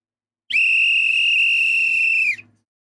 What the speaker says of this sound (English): We about to get that whistle.